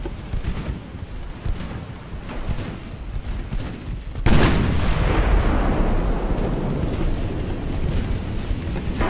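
A 12-inch naval shell strikes a ship in Ultimate Admiral Dreadnoughts: a sudden heavy boom hits partway through and gives way to a sustained, roaring rumble over a churning, noisy sea-battle background.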